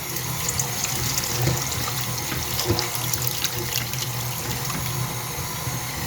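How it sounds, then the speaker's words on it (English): Cooking liquid from chili meat is poured through a strainer into a bowl, making a steady, close, continuous rushing splash of liquid with no talking. "I have a strainer over a bowl that I'm going to pour this off into."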